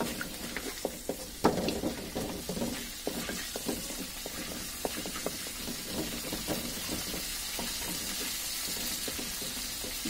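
Two dried chillies frying in a little oil in a wok used for tempering dal: a soft, steady sizzle scattered with irregular crackles and small pops, one sharper pop near the start, with no talking.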